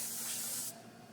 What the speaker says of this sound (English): Look how strong that spray pattern is.